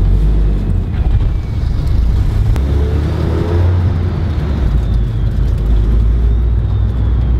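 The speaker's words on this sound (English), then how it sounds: "The turbo sounds so cool." Inside a 325 kW Nissan S14 on a ride along, the engine roars loudly and close up while a faint turbo spool whistle rises and falls above the drone.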